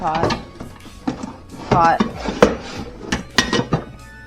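Pots and pans clanking and knocking together while being sorted in a kitchen during a declutter, close metallic clatter in irregular bursts with a sustained ringing scrape, mixed with a voice talking.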